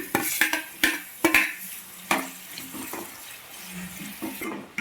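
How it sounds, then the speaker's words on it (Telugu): Tomato and capsicum masala curry is stirred in a pan, heard as a series of sharp scraping clacks of a utensil against the pan with wet shuffling between them, close and spaced irregularly. "ఒకసారి మొత్తం ఇట్లా కలిపేసుకుందామండి"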